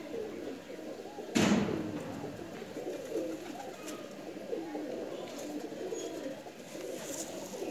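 A Bateray pigeon coos softly nearby, low rounded calls repeating against quiet background noise, with a brief thump early on.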